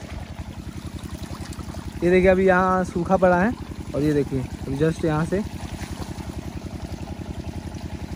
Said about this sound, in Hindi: पानी काफ़ी तेज़ आ रहा है